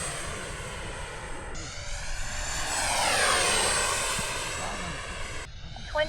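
A model jet aircraft passes overhead at Fritz Field, its engine whine swelling as it nears and fading as it moves away, with faint voices in the background.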